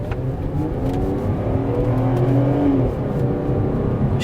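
A car engine revs up hard on a track, its pitch climbing steadily as it accelerates, loud and close with no talking.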